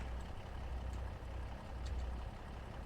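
A big Claas tractor in Farming Simulator 25 rumbles with a steady, low diesel drone, idling close and unchanging, with no voices over it.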